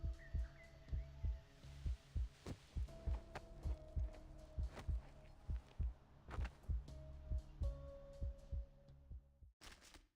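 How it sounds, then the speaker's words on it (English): Video game heartbeat effect: a slow, steady, deep double-thump pulse repeating evenly over a soft hum, with a few faint game sounds around it. "slowing her heartbeat to limit her bleeding and maintain focus"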